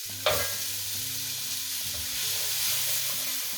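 Onions, celery and carrot sizzling in a pan for a vegan lasagne, stirred with scraping utensil strokes over a continuous, fairly loud frying hiss, no voices.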